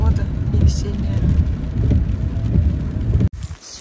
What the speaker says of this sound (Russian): Дождик пошел сильный.